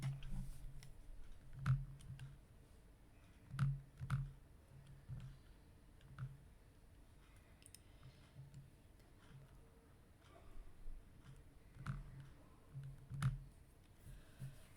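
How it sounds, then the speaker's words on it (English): Quiet, sparse clicks of calculator keys being pressed while working out an exam maths problem, coming in small irregular clusters over a faint steady background hiss, no voices. "let me type this into the calculator"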